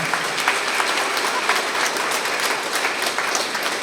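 An audience at a student honouring ceremony breaks into sustained applause, dense overlapping claps filling the space evenly for several seconds with no voices rising above it.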